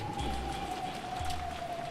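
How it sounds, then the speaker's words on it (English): Cold rain blowing in through a smashed window in the Umineko game, a steady patter of raindrops over a soft background hum and a faint sustained tone, with no voices. "even though the cold rain that blew in tormented me"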